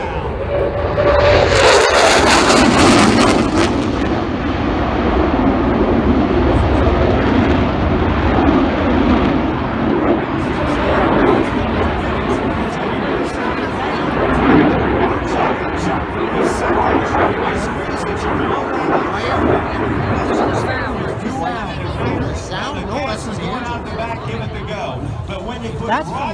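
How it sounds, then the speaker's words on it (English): An F-15 Eagle's afterburner thrust roars loudly at first, then settles into a sustained rumbling roar at an air show, with crackles and voices faintly underneath. "afterburners that you see and hear on these F-15 Eagles"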